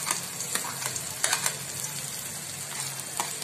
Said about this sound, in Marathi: आता आपल्याला कांदा टाकायचा। नंतर मिरचीचे तुकडे,